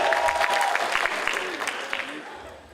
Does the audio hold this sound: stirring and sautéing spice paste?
no